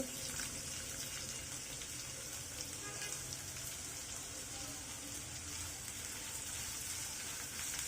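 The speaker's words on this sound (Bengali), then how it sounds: "পেঁয়াজ কুটি কুটিটাকেও আমি এখন গোল্ডেন করে ভেজে নিব" Two large chopped onions frying in a pan toward golden brown give a steady, fairly soft sizzling hiss that carries on evenly without pauses.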